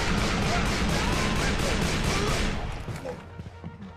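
Dense, sustained gunfire in the Civil War shooter game Call of Juarez: Bound in Blood, a loud continuous barrage that thins out and fades toward the end.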